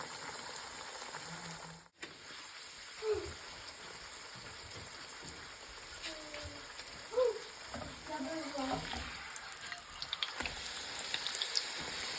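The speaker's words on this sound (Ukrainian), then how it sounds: "смажимо наші чебуреки по одній хвилині з обох сторін" Sunflower oil crackles and sizzles steadily in a frying pan as chebureks fry, with faint bursts of spattering and some clinking in the background.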